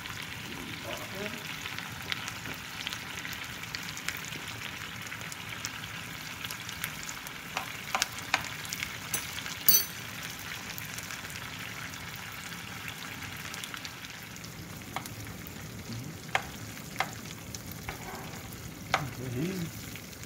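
Butter sizzles softly in a pan beside truffle oil, a quiet steady crackle with scattered sharper pops and clicks, fairly close and without talk.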